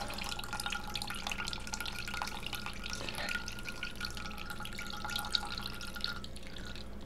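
Casein filtrate of milk curdled with acetic acid drips through a filter, giving a quiet run of small irregular droplet ticks with a faint watery trickle and low background hum.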